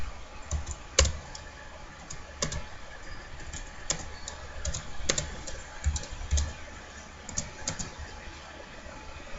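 Computer keyboard typing, a close, irregular patter of light key clicks with a few sharper, heavier strikes, steady over several seconds.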